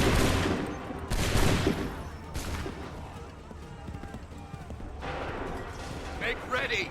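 Musket volleys from the Assassin's Creed III game crack out as several loud, broad blasts a second or so apart, each trailing into rumbling echo, while voices shout among them.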